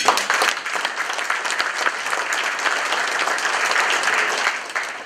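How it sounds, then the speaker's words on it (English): A meeting audience gives a dense, sustained round of applause for the education committee members, steady and loud from start to finish, tapering slightly at the very end, with no voices over it. "And can we give a round of applause?"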